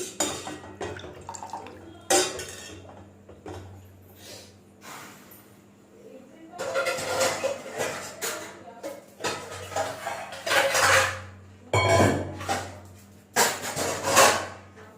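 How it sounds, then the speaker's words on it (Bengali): Milk being stirred in a pot while it heats on medium flame for homemade mozzarella, with intermittent scraping and clinking of a utensil against the pot in irregular bursts, and a voice talking between the strokes. "এটা আস্তে আস্তে আমি নাড়াচ্ছি এই জন্য যাতে দুধটা সব দিকে খুব ভালোভাবে গরম হয়ে যায়"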